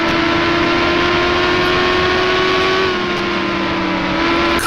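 IndyCar race cars in the NASCAR Racing 2003 sim at Homestead-Miami Speedway, a loud sustained engine whine that holds pitch, then drops slightly as another car's tone joins in, with no talking.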